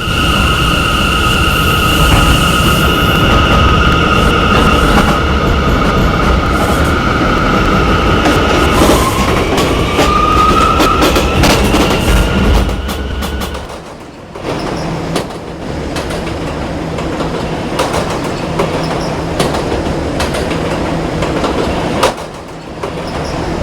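A New York subway E train rolls along loudly with a heavy rumble and a high whine that bends upward. Then wheels clack and squeal as it moves on at a lower roar, with no talking.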